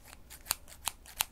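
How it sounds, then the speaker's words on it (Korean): Metal hair scissors for cutting bangs snip three crisp times at an uneven pace, close and quiet in an otherwise hushed room. "가위도 잠깐만 나 가위 지금 두 개나 있네"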